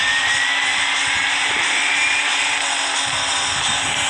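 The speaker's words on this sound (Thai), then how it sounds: "เราอัพเครื่องเต็มหมดเลยนะครับ เราติดเครื่องเลยครับ" Upgraded, fully tuned car engine in the mobile racing game Cil Racing 3D, starting up and revving as a steady, loud, high-pitched synthetic roar that holds without pause throughout.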